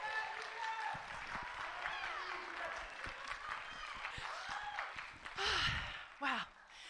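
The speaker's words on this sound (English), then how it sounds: "So one more time for a round of applause for these kids for working really hard." Audience applause for child choir performers at the end of a concert, a steady patter of claps for several seconds with voices and crowd noise mixed in, ending in a couple of louder bursts.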